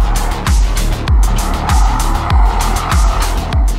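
Rhythmic swells of a Jaguar F-Type petrol engine and tire noise close by on dry asphalt, repeating surges like the car sliding into drifts and correcting, loud and continuous.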